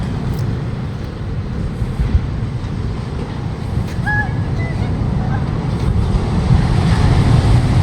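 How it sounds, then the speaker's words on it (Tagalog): A continuous low rumble of heavy surf and wind from strong sea waves at Puerto de San Juan rushes steadily, growing slightly louder toward the end, with a faint brief bird chirp in the middle. "Sobrang lakas ng alon ng dagat."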